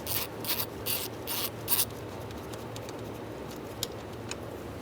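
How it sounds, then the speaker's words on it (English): A 10mm socket ratchet loosening a bolt on a 2010-2013 Kia Soul 2.0L, giving a few short bursts of close clicking in the opening seconds, then quieter faint mechanical ticks and handling noise. "take your 10mm socket. Loosen up this bolt."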